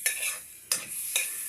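Liver stirred in a hot pan, three distinct scraping strokes of a utensil over a soft sizzle, close and fairly quiet.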